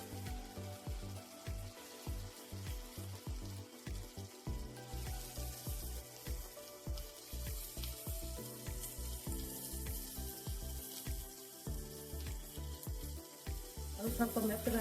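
Chopped capsicum sizzling and frying in a pan for mushroom fried rice, a steady close crackling hiss running throughout with rhythmic scraping and stirring knocks.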